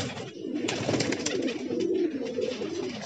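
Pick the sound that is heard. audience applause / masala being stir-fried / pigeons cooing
pigeons cooing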